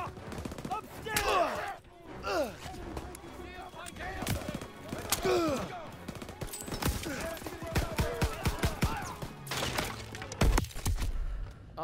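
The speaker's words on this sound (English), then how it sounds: "MGs are tearing us up!" Machine gun bursts and scattered gunshots in a WWII battle in Call of Duty: WWII, sharp repeated cracks through a busy mix of voices, effects and shouted talk, with a heavier burst near the end.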